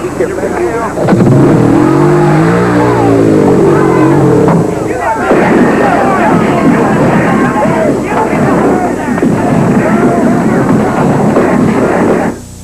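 A motorcycle engine is kick-started, sputters and catches, then revs loudly and unevenly in rising and falling surges, with people talking over it.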